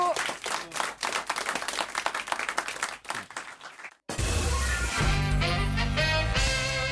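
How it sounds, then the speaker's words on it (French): A studio audience claps for a contestant on a French radio-TV show: rhythmic, fairly loud clapping for about four seconds that cuts abruptly into music. "on vous applaudit"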